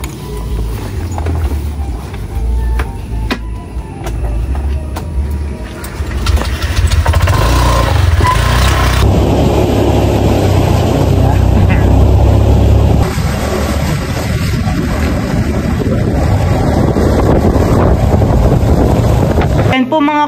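A small boat's outboard motor on a fishpond drones loudly and steadily, with wind noise buffeting the microphone and a surge in engine level partway through.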